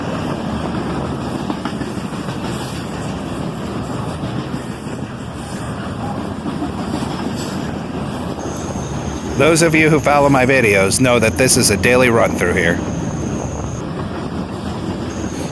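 A CSX freight train with slab cars rolls by in a continuous rumble, and someone speaks over it partway through.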